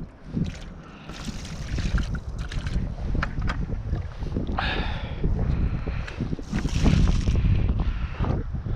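Chilly outdoor wind at a spot where ducks and birds are being fed, a continuous broadband rushing and buffeting against the microphone that swells and eases throughout.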